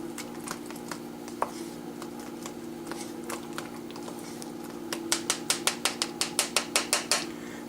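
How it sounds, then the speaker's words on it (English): Eggs stirred in a cup between microwave cooking, scattered light clinks early, then a quick rhythmic run of sharp utensil taps against the cup near the end, fairly close and alone. "Here we go, stir it up real good."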